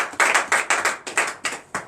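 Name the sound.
clapping hands in acclaim during prayer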